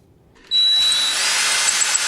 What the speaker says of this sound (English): Trying to drill through whatever the hell that steel is right there